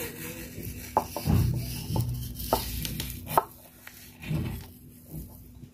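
A knife cuts through soft frozen mango cream ice cream in a series of muffled, dull chops, close up, with no one talking.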